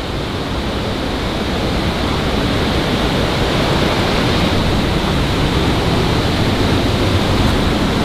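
Water rushing behind a wall in an underground passage beneath Manchester, a loud, constant broadband roar with no breaks and no talking.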